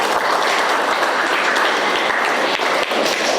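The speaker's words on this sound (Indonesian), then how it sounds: "Baik, kasih aplaus." A classroom of students gives steady, dense applause for a few seconds, continuous clapping at close range with no one talking over it.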